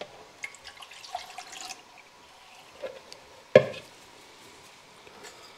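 Water trickles and splashes into a bowl of dough mixture with salt, faint irregular drips and pours, then one sharp louder splash midway before quieter dribbles, close up with no talking.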